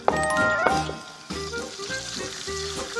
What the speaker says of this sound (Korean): 이런 식으로 지글지글한 소리가 날 때쯤